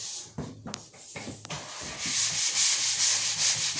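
Hand sanding of dried drywall joint compound, first a few short scrapes and taps, then continuous close, rough back-and-forth rubbing strokes that grow louder and steadier.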